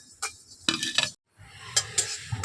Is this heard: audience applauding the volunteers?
no